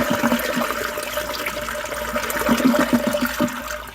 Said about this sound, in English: in honor of Andrew, we will play a toilet flushing sound effect every time we discuss the Rochdale match